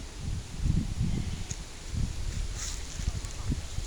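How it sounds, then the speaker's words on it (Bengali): Spring wind gusts through village tree leaves with a steady rustle, buffeting the microphone with low rumbling puffs. "প্রতিটা গাছপালা বাতাসে বাতাসে দুলছে।"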